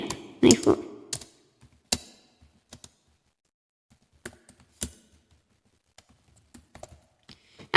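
Keys tapped on a computer keyboard to enter a Minecraft Bedrock command, a quick cluster of clicks followed by sparse single taps in quiet, with a voice briefly at the start.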